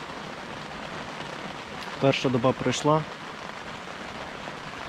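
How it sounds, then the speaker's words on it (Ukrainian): Steady heavy rain pouring down during a carp fishing tournament as a dense, continuous hiss, with a person speaking briefly partway through. "бо дощ такий періщить"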